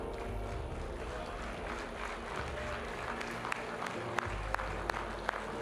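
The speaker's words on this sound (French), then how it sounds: "On peut applaudir beaucoup Thalès" Faint, steady applause from a crowd around a Blonde-Gascon cattle show ring, heard at a distance over a low rumble, with a few sharper claps standing out near the end.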